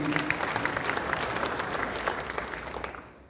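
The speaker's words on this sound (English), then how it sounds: "Let's give a hearty clap to Dan, please." Steady, dense clapping from a crowd at a memorial gathering, sustained throughout at an even level and fading slightly at the end.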